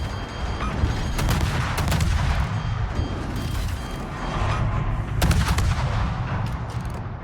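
Naval gunfire from a destroyer's eight guns in World of Warships, a dense run of loud, rapid cannon blasts and booms overlapping in heavy volleys with little pause.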